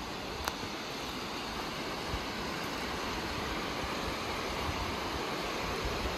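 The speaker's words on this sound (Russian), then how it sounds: "И река бурная наша течет." Turbulent mountain river in Adygea near Guzeripl in autumn, a dense, constant roar of rushing water close by with no talk over it.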